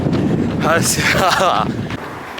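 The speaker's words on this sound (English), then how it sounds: "I never thought I'd be happy to be running into a headwind" Loud wind buffeting a microphone while running into a headwind in 36-degree heat, a constant low roar throughout, with a voice briefly speaking over it.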